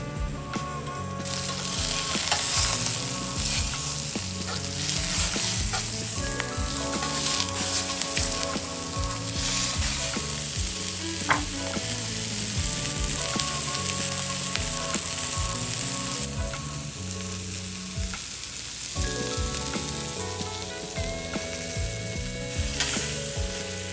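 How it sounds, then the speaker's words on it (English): Salisbury steak patties browning on both sides in a frying pan give a steady, loud sizzle and fry that runs throughout, with music playing over it. "So I'm gonna get these browned on both sides."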